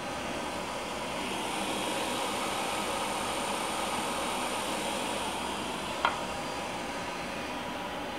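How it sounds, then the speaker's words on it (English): A high-RPM ID spindle on a Kellenberger 600U OD grinder gives a steady, fairly quiet broadband whine and hiss, with one brief click near the end. "I'll start this ID spindle for you. They are kind of noisy. It's very high RPM."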